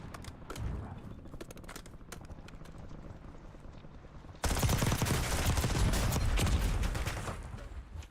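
Rapid bursts of PPSh submachine gun fire in Call of Duty: Warzone, with scattered shots early on, then a dense, loud sustained burst in the second half.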